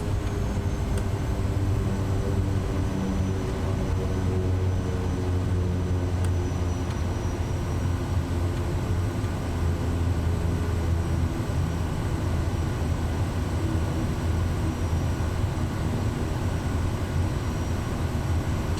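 A steady, droning aircraft engine hums continuously while the plane taxis to the runway in Microsoft Flight Simulator 2024, a constant low rumble with no talking.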